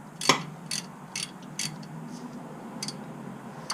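A ratchet clicks in short bursts while tightening the rear brake caliper bolts on a BMW F30 Sport Line, quiet and close, with pauses between the turns.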